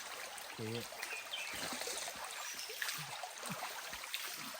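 Water running and trickling steadily in an outdoor washing scene, a constant close splashing flow with faint voices and small knocks underneath.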